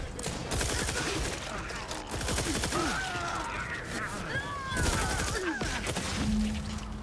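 A powerful gun fires in The Outer Worlds 2, a dense burst of rapid shots layered with game effects and a voice reacting, loud and close across several seconds.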